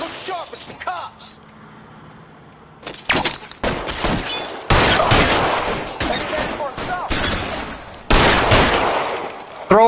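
Rapid bursts of gunfire crack through a police shootout in the 1940s Los Angeles crime game L.A. Noire, loud volleys repeating after a brief lull, with shouted voices between and under the shots.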